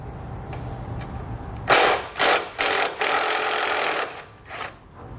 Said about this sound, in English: Then we can remove this bolt using a 10mm socket.